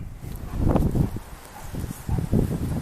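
Gusty wind buffets the microphone in low rumbling bursts while walking a yard, with leaves rustling nearby.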